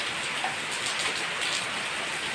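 Rain falls steadily on a village in Odisha, a dense, even hiss of drops on surfaces close by, continuous throughout with no voices.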